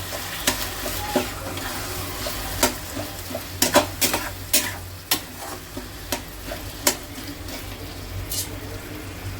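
Eggplant tossed into a pan of already browned onions fries with a soft sizzle, while a spatula makes irregular clicking and scraping strokes against the pan over a low background hum.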